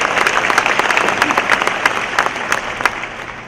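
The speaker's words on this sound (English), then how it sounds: "Where, you can clap for that." Applause from an audience at a university honors day ceremony, a steady wash of many hands clapping with sharp individual claps standing out, loud and continuous.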